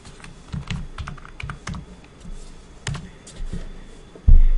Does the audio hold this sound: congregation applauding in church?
no